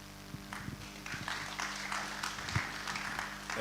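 Audience members at a roundtable meeting clap, a scattered and fairly quiet patter of hands over low room hum, building slightly toward the end.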